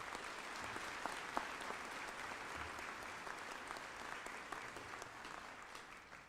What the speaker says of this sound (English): Please join me in one more round of applause for Mike Pacherik and the IVCC Wind Ensemble